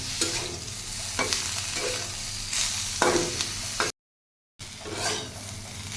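Vegetables being stirred in a frying pan, with a steady close sizzle and repeated scraping strokes of the utensil. Sound cuts out briefly near the end, then resumes.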